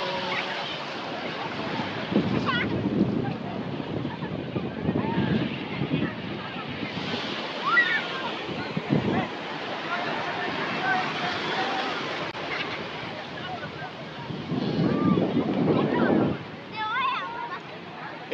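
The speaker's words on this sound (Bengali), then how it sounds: "এই যে আরেকটা ঢেউ, দাঁড়া দাঁড়া।" Sea waves rolling in and breaking on the beach at Cox's Bazar, a steady wash of surf with gusts of wind noise on the microphone and people talking over it nearby.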